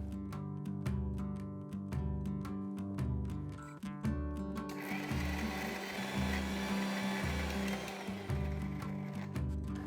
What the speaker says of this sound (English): grinding the cooked pumpkin,